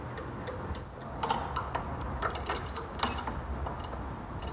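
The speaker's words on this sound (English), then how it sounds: "I'm holding the screw in place while I'm tightening the nut here" A wrench tightens a nut on a modern Vespa's rear brake cable, giving a series of small, close metallic clicks and ticks in an uneven rhythm over a low background.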